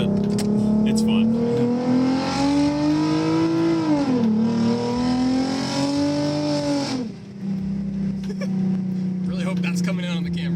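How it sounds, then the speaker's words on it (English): A modified Lexus IS350 being driven hard, its engine revving up and down with a droning exhaust note, then easing off to a steady cruise, with someone talking over the engine. "you get the little pops and the exhaust"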